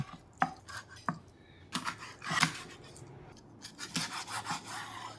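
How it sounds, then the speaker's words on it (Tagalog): A knife cuts a large milkfish into four pieces, with sharp irregular chops on a board mixed with rasping, scraping strokes through flesh and bone, close up and without talk. "Hatiin na lang natin itong isang malaking bangos sa 4."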